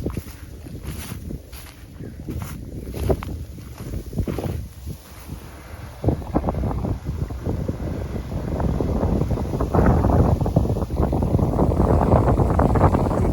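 Combine harvester cutting tall, tough-stemmed millet in a field, a continuous rumbling engine and thrashing drone that grows louder and denser toward the end, with wind buffeting the microphone throughout.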